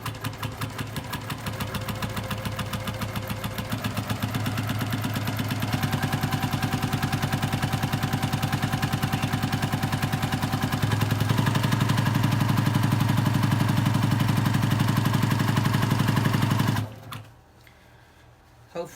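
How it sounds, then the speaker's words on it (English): A sewing machine with a walking foot sewing a quilt border runs in a fast, steady mechanical chatter, close and continuous, then stops abruptly near the end. "you're watching a guy sewing, so you're gonna hear the machine"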